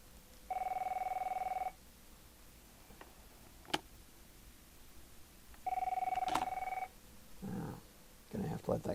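A telephone rings twice, each ring a bright, steady electronic trill lasting about a second, separated by a pause of several seconds, with faint ticks and clatter in a quiet room.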